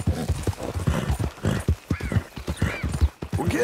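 Horse hooves clip-clopping in Red Dead Redemption 2, a steady run of close, distinct hoof strikes with a brief whinny-like tone mixed in, loud and rhythmic throughout.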